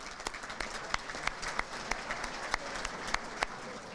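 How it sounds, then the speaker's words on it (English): A room of guests at a school athletic Hall of Fame dinner applauds for the kitchen staff, a steady moderate patter of many hands with a few louder nearby claps cutting through. "Let's give them a round of applause for dinner"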